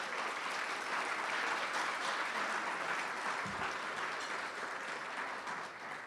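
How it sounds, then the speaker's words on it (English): An audience at a university journalism school awards ceremony applauds retiring faculty members, a full, continuous round of clapping that holds steady and eases slightly near the end, with a brief low thump in the middle. "Yeah, we can give them a round of applause"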